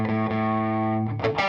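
An electric guitar played through an Orange amplifier with heavy distortion sustains one thick, buzzing chord for about a second, then breaks into a few quick picked notes, loud and close.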